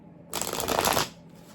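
A quick burst of tarot cards being shuffled, a crisp riffling flutter lasting under a second, close up, followed by quiet.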